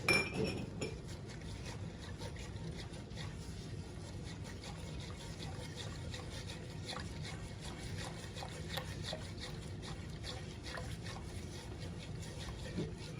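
A spoon stirring cold sugar syrup in a dish for Lebanese semolina pudding, with faint, steady metallic clinks and scraping throughout at low volume.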